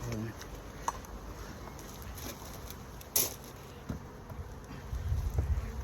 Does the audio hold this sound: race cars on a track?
no